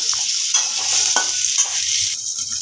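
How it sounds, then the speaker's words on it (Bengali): A steady, bright sizzle of potatoes frying in a pan, broken by a few soft scraping and stirring sounds. "এবার আমি ভালো করে আলুগুলোকে ভাজা ভাজা করে দেব"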